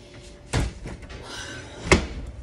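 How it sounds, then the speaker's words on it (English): Back door of a house knocking twice in gusty wind, a sharp bang early and another later, with quieter rattling and rustling between them. "Oh, the back door is still open. Wind's gonna catch it."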